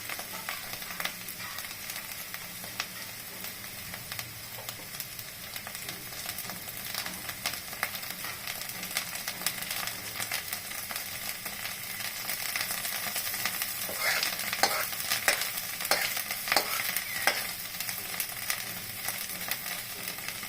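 Cauliflower and egg bhujia cooking in oil in a pan, a steady close sizzle and crackle with occasional stirring scrapes, growing slightly louder toward the end.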